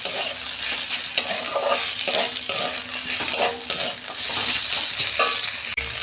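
Two sliced onions, salted, fry in a pan with a loud, steady sizzle that continues for the whole stretch, broken by occasional scrapes of stirring.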